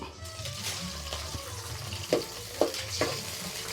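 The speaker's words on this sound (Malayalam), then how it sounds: "കുറച്ച് കറിവേപ്പില പൊട്ടിക്കുകയാണ്" Curry leaves splutter in hot coconut oil in a pan, a steady low frying hiss broken by three sharp crackling pops near the end.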